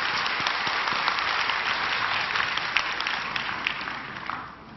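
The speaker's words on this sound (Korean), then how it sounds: "우리의 찬양을 받으신 하나님께 다시 한번 영광의 박수 올려드리겠습니다." A congregation claps together at a Korean early-morning church prayer service, a dense, steady wash of hands that holds for several seconds and then starts to fade at the end.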